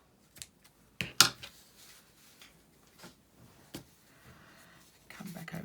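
Scissors cut into a cardboard fast food French fries box, giving a few sharp, close snips and crunches separated by pauses, with faint handling rustle between them.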